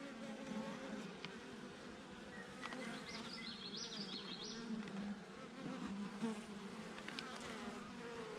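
Honeybees in an open hive being inspected drone in a dense, continuous buzz, restless and somewhat agitated, with individual bees whining past closer at times.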